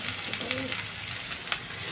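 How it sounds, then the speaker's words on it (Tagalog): Garlic and onion frying in hot oil in a kawali for Filipino-style spaghetti, a steady close sizzle with faint crackles and a soft stir, under brief talk. "Ngayon, magpainit muna tayo ng mantika sa kawali at kapag mainit na ito, ay ilagay yung ating bawang at sibuyas."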